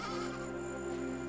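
Sheep bleat in the video game AER: Memories of Old, a steady, sustained bleat held against a low humming ambient background, with no talking.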